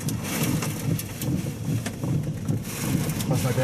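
Strong wind buffets the microphone during a chase of a violent EF-4 tornado in Illinois, a loud continuous roaring rush with gusty swells throughout, and voices faintly mixed in.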